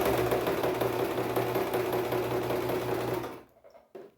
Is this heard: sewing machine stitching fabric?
yes